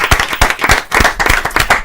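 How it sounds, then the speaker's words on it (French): Crisp clapping from a team in a radio studio, close and lively, with distinct individual hand strikes in quick irregular succession over the whole moment. "Applaudissements!"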